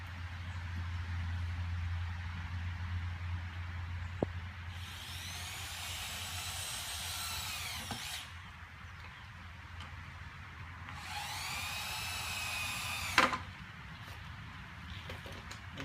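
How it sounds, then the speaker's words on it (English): Power drill driving 2-inch screws into a mitered cedar raised garden bed frame: two rising, whirring bursts of several seconds each, close and fairly loud, over a low steady background hum. "putting the mitered ends together and driving in some 2-inch screws"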